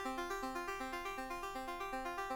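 A Serum 2 synth wavetable arpeggio runs in quick 1/16th notes, transposing upward in a repeating even cycle, soft and clean with no voices.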